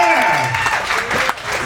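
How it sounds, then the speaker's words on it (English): A comedy club audience breaks into a short burst of clapping and a few cheers, a brief, lively round of applause that cuts off quickly. "Clap if you're a Florida native."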